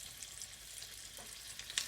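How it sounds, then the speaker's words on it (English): Red snapper fries in a pan for Guyanese-style fish curry, giving a soft, continuous sizzle with a few small pops, close and fairly quiet. "So I would be frying my fish here now"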